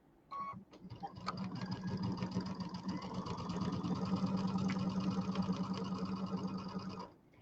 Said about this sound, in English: I'm still doing my 1/4-inch seam with my piecing stitch, Q02.